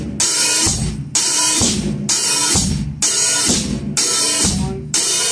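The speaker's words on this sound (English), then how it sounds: "I'm gonna play the hi-hat on all the eighth notes, opening on all the ands." Funk-disco drum groove: eighth-note hi-hat opening on every 'and', with backbeat snare on two and four and kick, played as a steady, loud, repeating pattern with no talking.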